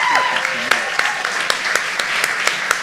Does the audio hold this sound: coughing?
no